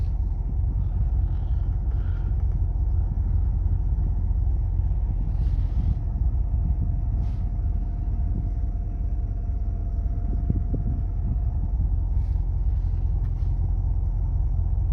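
2011 Ford F250 truck with an emissions-delete tune driving on a road, a steady deep rumble of engine and tires inside the cab, loud and continuous with slight swells and no talking.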